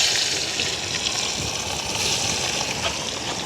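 Fish pieces frying in hot oil during outdoor village cooking give off a loud, steady, broadband sizzle and crackle that holds constant with no talk over it.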